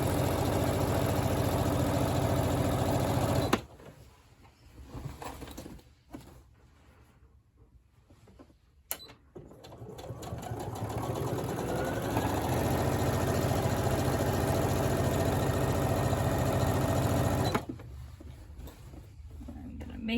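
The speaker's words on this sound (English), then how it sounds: "I'm going to sew with a 1/4 inch seam allowance" A sewing machine runs in steady bursts, stitching fabric binding with a quarter-inch seam: an even mechanical whir that stops and restarts, with quiet pauses and a person speaking between runs.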